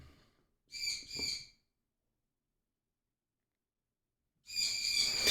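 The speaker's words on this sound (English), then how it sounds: "those birds" Birds call outside in two bursts of bright, chirping song, a pair of quick calls early on, then a longer run after a silent gap, with no talking.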